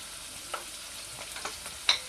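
Spices such as black salt, turmeric and red chili sizzle in a pan for aloe vera pickle, a steady soft frying hiss with a few sharper crackles and stirring clicks, no voices.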